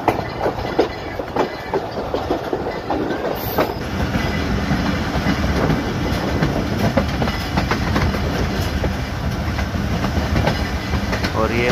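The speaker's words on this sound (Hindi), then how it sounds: "यहाँ से मनक्याला रेलवे स्टेशन से पास हो रही है गाड़ी हमारी।" Pakistan Express passenger train rolling through Mankyala railway station on the Dina to Rawalpindi line, heard from aboard as a loud, steady rumble with rhythmic clickety-clack of wheels over rail joints, building after a few seconds.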